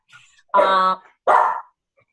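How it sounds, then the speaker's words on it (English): A dog barks twice, two loud, close, drawn-out barks about half a second apart, with a faint whimper just before them and no one talking over them. "this is my dog, sorry about that"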